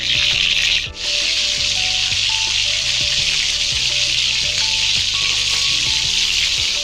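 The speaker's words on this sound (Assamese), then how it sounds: "এতিয়া মই ৰিফাইন অইলত ফ্ৰাই কৰি লম" Chicken pieces, marinated and chilled, frying in refined cooking oil, giving a steady loud sizzle that runs throughout with a faint rhythmic low clatter beneath it.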